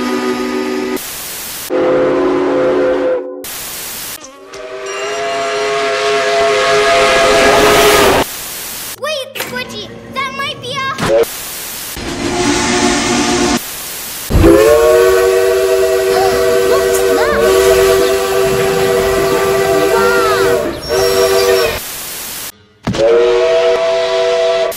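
Southern Railway 4501 steam locomotive whistle, loud and close, sounding in repeated long chime blasts of varying length separated by abrupt cuts and short gaps.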